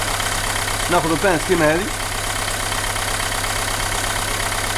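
A Renault Megane 2 engine with a rough-running fault idles in a steady, even drone with a low hum, while someone speaks briefly over it near the middle.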